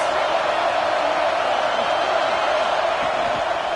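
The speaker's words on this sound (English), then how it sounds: "This crowd trying to make life miserable for this offense." Football stadium crowd at an Alabama game, a dense continuous roar of many voices, loud and steady throughout the short stretch.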